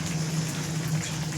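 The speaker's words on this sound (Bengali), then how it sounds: "ফুটছে।" Snakehead fish curry with fried potato and radish bubbles steadily in a cooking pot, a continuous soft simmering gurgle with a low hum beneath.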